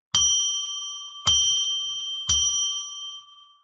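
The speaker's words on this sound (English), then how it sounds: "we're going to ring a bell 3 times now so that we can declare sacred space" A bell rung three times to mark sacred space, each strike ringing out clear and bright and decaying slowly before the next, about a second apart, with no talk.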